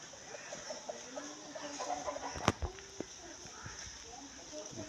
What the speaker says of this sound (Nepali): कुखुरा पनि छ।